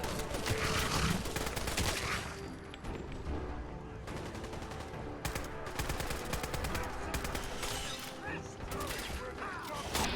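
Rapid bursts of automatic gunfire with mechanical clatter in Fallout 4, loud and sustained, with brief pauses between volleys.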